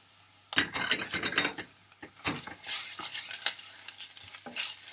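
Food sautés in oil in a pan for eggplant dolmeh, with sizzling bursts and scraping stirs against the pan, close and uneven in rhythm.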